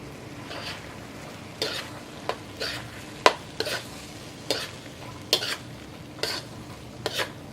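Quinoa and pork being stirred through a creamy coconut sauce in a pan, with a soft simmering hiss under repeated sharp spoon scrapes and clinks at an irregular rhythm, close and alone.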